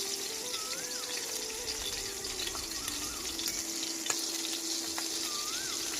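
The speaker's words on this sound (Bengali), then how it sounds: "এখন মাছগুলা কিছুক্ষণ ভেজে নিব।" Large pieces of river aair fish fry in oil, making a steady, close, continuous sizzle throughout with no talking.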